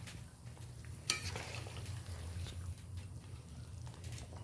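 Magur catfish curry stirred in a pan, a soft scraping swirl with one sharper clank early on, over a steady low simmering bubble, close and quiet with no talking.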